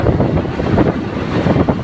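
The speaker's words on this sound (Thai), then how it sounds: "ลมแรงมาก" Strong wind buffeting a microphone aboard a fishing boat at sea, a loud, close, gusting rumble that pulses irregularly throughout with no voices.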